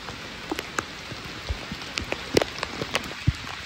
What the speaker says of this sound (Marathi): हे बघा, पावसाच्या आवाजाने आपल्याला कळत असेल की पाऊस किती मुसळधार आहे.